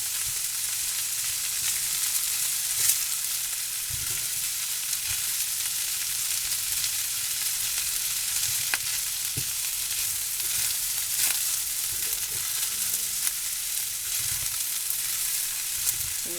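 Onions sizzle hard in a pan for pork fried rice, a constant, close frying hiss broken by occasional clicks and scrapes as a utensil breaks them up and stirs.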